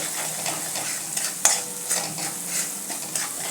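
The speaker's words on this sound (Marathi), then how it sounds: "मिनिटभर नुसतं असं हलवायचं" A potato filling mixture with turmeric and salt is stirred in a hot pan, a close, even sizzle with light regular scraping strokes.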